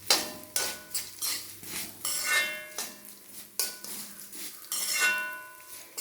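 Washed and dried sesame seeds are tipped into a pan, making bursts of rattling, clattering scatter and scraping, fairly loud and close, with no voices.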